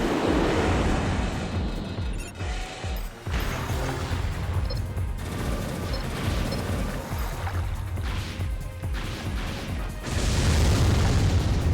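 Deep booming artillery blasts in the Armored Core 3 video game, a dense run of loud low explosions and crashing impacts over a steady rumble, swelling heavier toward the end.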